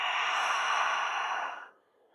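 A long, steady breath exhaled through the open mouth during a yin yoga breathing exercise, close and soft, trailing off into quiet after about a second and a half.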